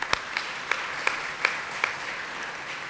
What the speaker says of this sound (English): so a round of applause for Leah.